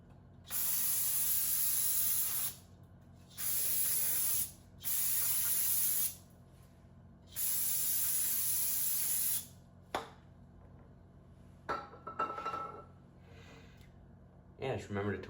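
Brake cleaner sprays onto the front brake rotors of a 1986-1994 Toyota 4Runner or pickup in four long hissing bursts, close and loud, followed by quieter clicks and handling noises.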